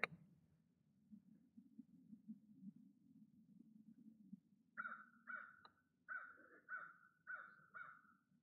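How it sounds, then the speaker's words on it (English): A crow caws in a run of about six harsh, evenly spaced calls at moderate distance, following several seconds of low rumbling wind or handling noise outdoors. "You can hear that crow screaming at me."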